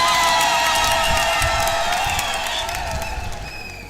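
A crowd applauding and cheering for a bishop at a church jubilee gathering, dense clapping with whoops and shouts, loud at first and slowly fading over a few seconds.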